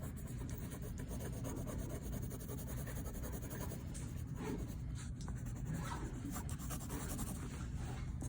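A color pencil scratches and rubs steadily across paper, a close, continuous dry rasp of drawing strokes with no talk.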